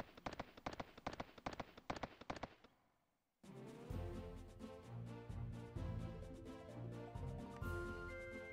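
Horse hooves clip-clop in the PlayStation 2 game Suikoden III: a quick, steady run of sharp hoof beats lasts about two and a half seconds, then stops and a game music track takes over.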